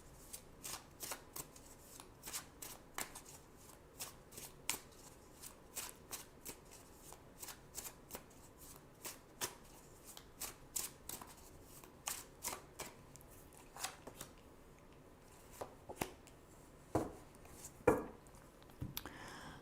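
Tarot cards are shuffled by hand in a quiet room, a long run of crisp, rapid riffling flutters and soft taps repeating at a fairly even pace, close and clear, with no talking.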